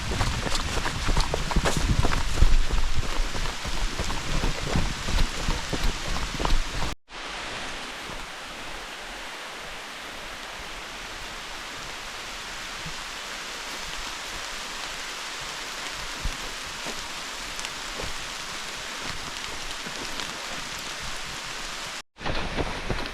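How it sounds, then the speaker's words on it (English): Heavy rain pouring onto the canopy above a wooded forest trail at Big Hill Pond, a constant dense hiss throughout, with rustling footsteps during the first seconds. "that's a downpour above me"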